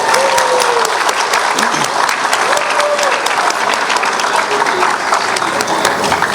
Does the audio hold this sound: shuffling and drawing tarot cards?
no